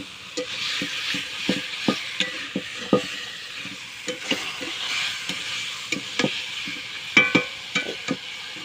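Homemade chicken (country hen) sizzles in a pan while being stirred, a soft steady frying hiss broken by repeated scraping clacks of a spatula at a close distance.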